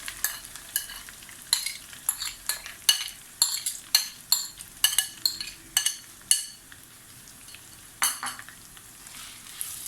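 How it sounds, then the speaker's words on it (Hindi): Grated raw mango being stirred into hot achaar masala in a pan, with repeated scraping spoon strokes against the metal over a steady oily sizzle, close and clear with no talk. "तो उसको चला लेंगे"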